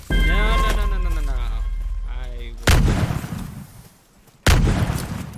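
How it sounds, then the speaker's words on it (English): A bomb explodes in a pirates-versus-ninjas video game, giving two loud, sharp booming blasts after a stretch of game music and voices, with a brief near-silent gap between them. "I accidentally threw the bomb behind me."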